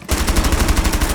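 Sustained automatic gunfire from a full magazine in the tactical shooter Rainbow Six Siege: a rapid, even train of loud, close shots running straight through without pause, no talking over it.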